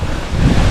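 Sea waves wash at the shore in Bulalacao, Oriental Mindoro, a brief, loud broadband rush of surf mixed with buffeting wind on the microphone.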